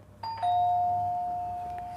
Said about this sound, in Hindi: डोरबेल बजती है ना अभी